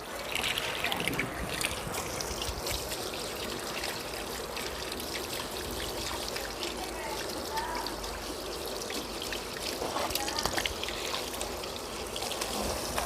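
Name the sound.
washing AC air filter in water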